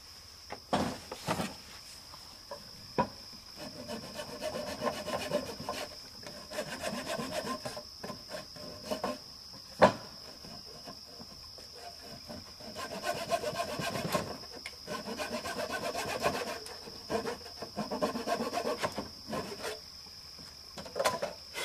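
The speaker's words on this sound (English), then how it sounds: "I don't even have a handsaw, so I have to use a ratty old trim saw." An old, worn trim saw cuts through the protruding lip of a wooden board for a garden planter box, giving repeated rasping strokes in uneven bursts, moderately close, with a steady high hum running throughout and no talking.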